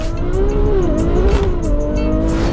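A Ferrari 599 with a 6.0-litre V12 engine roars and revs loudly and up close, its pitch rising and falling with throttle, with a faint tire squeal in the mix.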